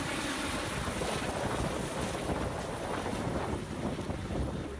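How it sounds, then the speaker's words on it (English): An AgustaWestland AW609 VTOL tiltrotor aircraft gives off a steady, loud rotor-and-engine roar, mixed with heavy wind noise, throughout the clip. "The Augusta Westland AW609 is a VTOL aircraft by Bell Augusta Aerospace"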